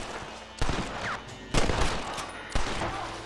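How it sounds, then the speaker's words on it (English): Gunfire in the western game Red Dead Redemption, three loud sharp shots spaced about a second apart over a busy, noisy game background. "I shot him."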